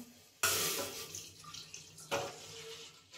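Water splashes into a bowl in two separate pours while making semiya payasam, each starting abruptly and then trickling off, with no voices.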